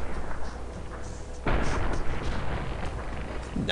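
Booming gunfire from the game Fallout New Vegas, a heavy shot landing midway and echoing over a low rumbling game backdrop, with no talk over it.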